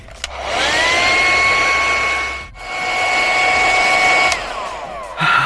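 A hair dryer set to its lowest speed blows steadily while drying hair, a loud, close whooshing roar with a whining tone, briefly dipping once as it is moved, then fading near the end.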